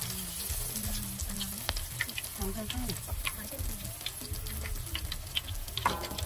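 Shrimp fry in oil in a pan with a soft, continuous sizzle and scattered crackling pops, fairly quiet and close, with brief low voices in the background.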